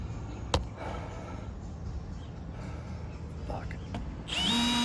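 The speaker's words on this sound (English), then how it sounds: "gonna drill it out" A power drill is used to drill out a broken screw aboard a liveaboard boat: a sharp knock, muffled working noise, then the drill spins up loud and steady at the end.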